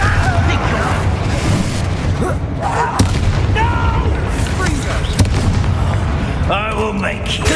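Hogwarts Legacy battle with a Confringo spell blast among repeated heavy booms and magical bursts, loud and dense, with voices shouting over the fighting.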